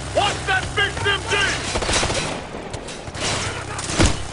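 Automatic gunfire in Ghost Recon Future Soldier, rapid bursts of shots with booms, mixed under shouted combat voices and in-game chatter.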